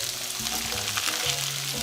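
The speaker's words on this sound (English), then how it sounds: "we're basically just frying this for about a minute" Steady, loud sizzling of peanuts and green onions stir-frying in a hot pan, with a continuous crackle and faint low clanks from stirring throughout.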